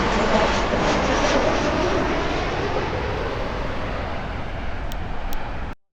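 A fixed-wing airplane flies low over a beach in Jeju on a windy, overcast day, a loud, steady engine roar that fills the whole stretch before cutting off abruptly at the end.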